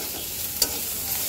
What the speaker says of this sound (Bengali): এইবার সুন্দর করে একটু ভাজা ভাজা করে নেব